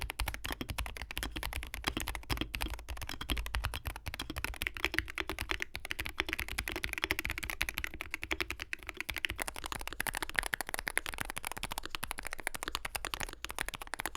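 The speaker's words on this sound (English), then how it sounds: "This board has a pretty muted, low pitched sound" Someone types steadily on a Wooting 80HE Hall effect keyboard, producing a dense, continuous stream of muted, low-pitched key clacks at a quick, even pace, with no one speaking.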